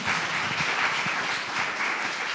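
Dense, steady applause from a seated audience at the opening of an animal-rights pleading competition, a continuous wash of many hands clapping without pause.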